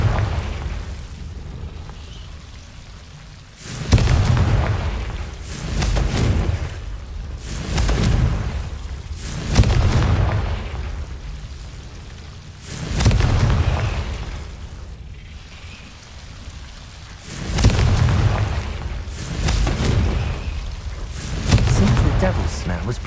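Confringo fire spells burst in Hogwarts Legacy, each cast landing as a loud, deep boom; about eight heavy blasts arrive every couple of seconds over a continuous game soundscape.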